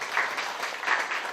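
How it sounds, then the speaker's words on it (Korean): Applause from the crowd at a memorial evening for farmer activist Ha Hae-ryong, a brief dense wash of many hands clapping at moderate distance, steady throughout with no speech over it. "박수 부탁드리겠습니다."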